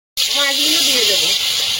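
Fish dropped into hot oil while cooking pui bituli with chingri, bursting into a loud, sustained hissing sizzle that starts abruptly and holds steady close up.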